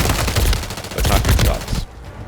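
Gunfire in a Resurgence battle royale video game, a loud close burst of rapid automatic shots that cuts off abruptly near the end.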